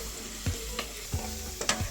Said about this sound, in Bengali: পেঁয়াজটা যতক্ষণ ভাজা হচ্ছে